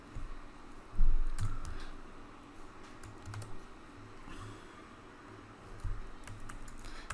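Keys clatter in irregular bursts as an SQL query is typed on a computer keyboard, close and moderately quiet, with scattered soft clicks and no talking.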